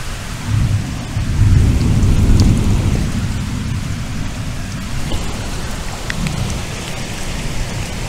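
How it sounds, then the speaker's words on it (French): A heavy thunderstorm with pouring rain drumming steadily and deep thunder rolling low, swelling loudest early, then easing into a constant downpour with a few scattered drips and knocks, no talk. "Alors, encore un orage impressionnant."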